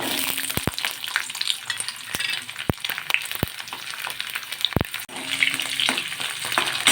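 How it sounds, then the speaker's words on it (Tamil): Steady sizzling of chopped garlic frying in hot oil for a green pepper curry, with several sharp pops and crackles and a brief stirring scrape partway through. "இப்போ நறுக்கி வச்ச வெள்ளை பூண்டு சேர்த்துக்கலாம்"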